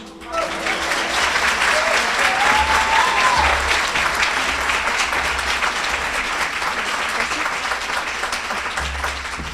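A crowd at a sorority chapter's 40th anniversary celebration breaks into sustained, loud applause lasting nearly ten seconds, with faint cheering mixed into the steady clapping.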